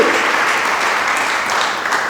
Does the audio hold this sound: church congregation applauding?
yes